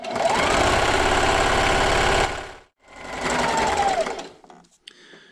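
A sewing machine runs steadily, stitching a quarter-inch seam along a table runner made of 2 1/2 inch strips, two loud continuous bursts separated by a brief pause, then slowing to a stop.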